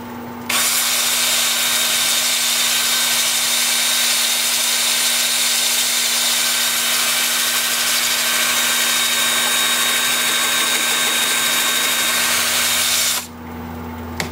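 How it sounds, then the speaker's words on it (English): A power drill spins a thin wood-turning slab in the forward direction while it is sanded through the grits up to 400, giving a loud, steady whirring drone that runs almost the whole time and then stops abruptly near the end. "So that's spinning forward with my drill spinning forward."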